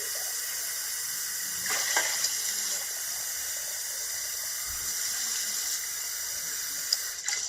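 Tap water runs steadily while rinsing out a container after vinegar has been dumped from it, a continuous close hissing splash with a few brief sloshes and clinks.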